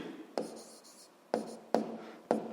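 Pen writing on paper up close: soft scratching strokes broken by four sharp taps as the pen touches down, with quiet pauses between and no talking.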